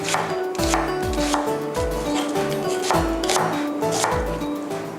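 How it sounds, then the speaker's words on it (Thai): Knife slicing a halved onion lengthwise on a cutting board, a steady series of crisp close thuds and cuts falling in quick rhythmic bursts with no talk. "ผ่าครึ่งแล้วก็ซอยตามยาวค่ะ"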